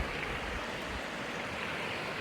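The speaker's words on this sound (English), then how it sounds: "Got a creek right beside you." A creek flows beside a campsite at Burrell's Ford, South Carolina, giving a steady close rushing wash of water that continues evenly with no voices.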